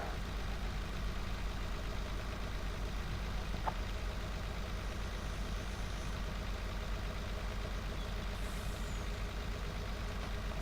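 A MAN TGX truck with a 500 horsepower engine climbs a hill in Farming Simulator 19, giving a steady, low, droning engine hum that holds constant and quiet throughout with no speech.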